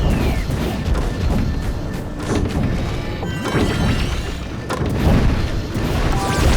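Swamp rat nest being smashed in the Jak and Daxter: The Precursor Legacy game's Boggy Swamp level, with loud crashing, thudding impacts and booms repeating over a dense, continuous game soundscape.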